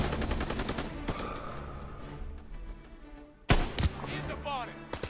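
Sniper and rifle fire crack in rapid, dense volleys during a Call of Duty WWII campaign battle, with a sharp, louder burst near the end and shouting voices mixed in.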